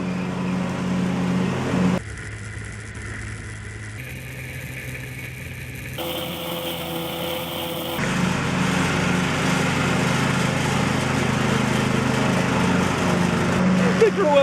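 A lawn mower engine runs steadily at close range, its drone shifting in tone every couple of seconds and growing a little louder toward the end, with voices talking over it.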